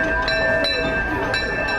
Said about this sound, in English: we are going to take you for a ride with us around Disneyland in the railroad